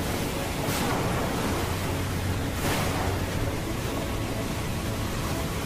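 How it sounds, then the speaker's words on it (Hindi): High sea waves roll and crash in a loud, constant wash of surf noise, with two stronger surges building and breaking near the start and middle. "अचानक ऊंची ऊंची लहरें उठने लगी।"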